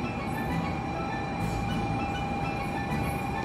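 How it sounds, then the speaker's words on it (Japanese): A Sanyo Shinkansen bullet train arriving at the platform at Hakata Station, a steady loud rumbling roar with a sustained high electric whine and faint brief squeals, no talking. "早速新幹線来たねー。 小倉からの小玉だぜ。"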